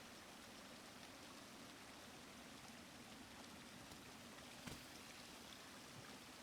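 Steady, faint flowing water in the video game Hollow Knight Silksong, an even rushing wash with no talking over it.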